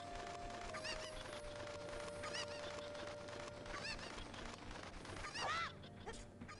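Cuccos, the chicken-like birds of The Legend of Zelda: Ocarina of Time, let out several short clucking, squawking calls over a constant game background, with a louder burst near the end.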